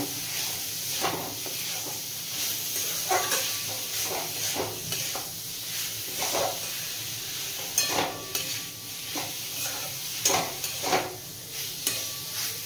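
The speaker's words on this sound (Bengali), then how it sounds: "সবকিছু দিয়ে বেশ ভালোভাবে মিশিয়ে নিয়েছি, একটুক্ষণ কষিয়ে নিয়েছি।" Boiled chicken stirred in a sizzling pan with spices for chicken bharta, a steady frying hiss under repeated scrapes and clinks of the spoon, close, with no talking.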